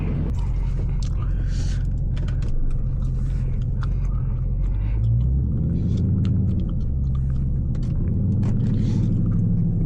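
A Dodge Scat Pack in manual mode cruises through an upscale Atlanta neighborhood, its engine producing a steady low rumble throughout, with the deep tone swelling at times as the car accelerates.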